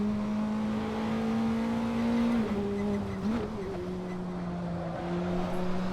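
A race car engine in the Assetto Corsa video game at Brands Hatch drones steadily at high revs, the pitch dipping slightly as the car shifts and brakes mid-lap, heard alone without talk.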